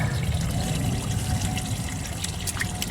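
Dirty pond filter foam rinsed in water, a steady close trickling and pouring wash running continuously with no talk.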